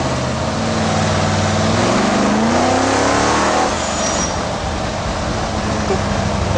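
A powerful 2200 bhp Vauxhall Victor engine revs up hard and accelerates on the road, its roaring pitch climbing steadily, loud and close throughout with no talking.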